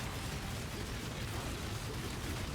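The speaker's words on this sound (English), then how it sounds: "explosion, like these little balls that come out" Explosions from a ball skill in Path of Exile, a dense, continuous roar of overlapping blasts and rumbling booms that stays loud and steady throughout, with no voices over it.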